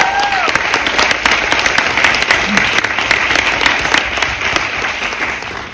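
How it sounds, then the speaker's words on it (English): Loud, dense applause from a town hall audience at a People's Manifesto event, steady and sustained throughout with a few brief voices mixed in. "give them a round of applause, please"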